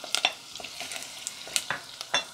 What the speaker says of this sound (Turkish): 1-2 dakika soğanı kavuralım